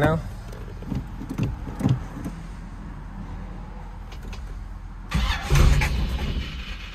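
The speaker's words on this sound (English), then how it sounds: "why not run the Camaro for a little bit longer before I get to work?" Chevrolet Camaro engine turning over and catching, then settling into a low rumbling idle, with a few clunks and a second surge of revving near the end, close by.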